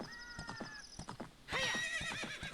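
A horse in Zelda: Ocarina of Time gallops with quick rhythmic hoof clip-clops, then lets out a loud, high whinny partway through while the hoofbeats continue.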